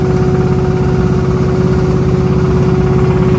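A steady farm tractor engine idles close by, a low throbbing drone with constant vibration and no pauses, in a rice field.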